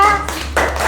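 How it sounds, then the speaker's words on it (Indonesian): A classroom group claps for a team of students after a quiz answer, a short burst of hand claps with a brief pause and then more clapping, fairly close. "tepuk tangan untuk kelompok A"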